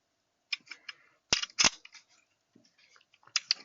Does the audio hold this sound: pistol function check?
yes